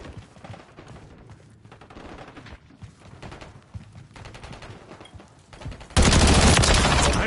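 Gunfire in the Call of Duty Modern Warfare 3 multiplayer video game on the Grime map: bursts of rapid shots and impacts, ending in a loud sustained stream of automatic fire.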